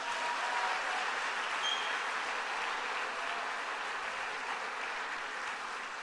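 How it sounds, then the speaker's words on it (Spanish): A church congregation gives sustained applause heard as a soft, uniform hiss of many hands, steady and fairly distant for the full duration. "Dele un fuerte aplauso al Señor"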